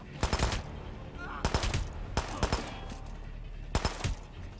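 Gunfire in the third-person shooter Hitman, played on a controller: several separate bursts of sharp shots spread across a few seconds, fairly close, over a steady background hum with faint talk between bursts.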